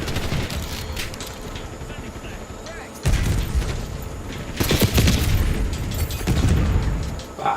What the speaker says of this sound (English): I don't think I've ever seen an SMG like this, where it fires so slow.